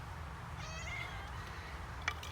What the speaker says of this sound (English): The evil kitty.